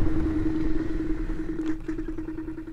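A Dualtron Compact electric scooter brakes with its ABS engaged. A steady motor whine gives way to a rapid pulsing chatter as the anti-lock system cycles, close and moderately loud.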